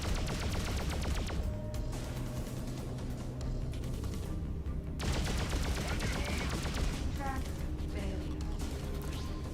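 Spaceship guns fire in fast, repeated volleys during a Freelancer space battle, loud and continuous with clanking mechanical effects, briefly dropping out midway before resuming, while a voice speaks at times.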